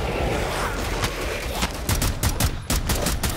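Rapid rifle gunfire spammed in Rainbow Six Siege, a tactical shooter game: a dense, loud string of sharp shots cracks in quick succession over constant battle din, with the pace quickening toward the end.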